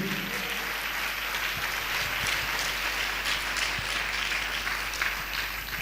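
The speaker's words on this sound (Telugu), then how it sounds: "అందరూ సంతోషించి చప్పట్లు కొట్టి దేవుడు మహిమపరచండి." A church congregation claps together in praise throughout, a dense steady patter of many hands at moderate distance with no talking over it.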